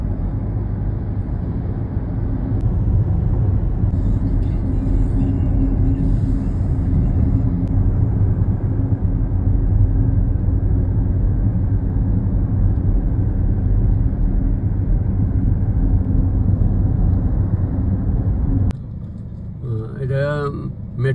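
Low, loud, steady engine rumble from inside a moving local bus that holds almost unchanged for nearly twenty seconds, then drops away as a voice speaks briefly at the end.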